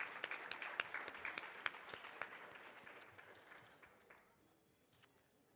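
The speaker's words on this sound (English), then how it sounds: "Round of applause to the awesome members of our Women Advisory Council" An audience at a women and bicycling forum plenary applauds, sharp individual claps standing out at first, then the clapping thins and fades to a few scattered hands over about five seconds.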